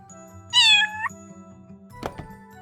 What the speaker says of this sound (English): how do they make the cat named Kito talk when her lips aren't moving